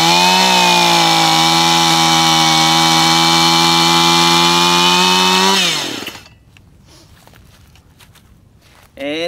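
A chainsaw cuts through a log, roaring loud and close at a steady high pitch for about six seconds, then spinning down to quiet rustling and a brief noise at the end.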